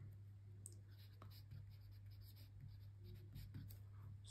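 Kaweco Student fountain pen with an F nib writing on paper, soft scratchy strokes in short bursts against a low steady hum, close and quiet.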